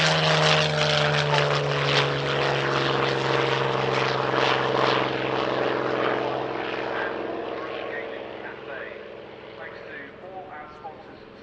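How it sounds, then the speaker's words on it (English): A Spitfire LF9 of the Royal Netherlands Air Force historic flight roars past at an air show, a loud steady propeller drone with a deep engine hum that slowly fades as it moves away. "this beautiful Spitfire LF9, visiting a British air show for the first time since 2013"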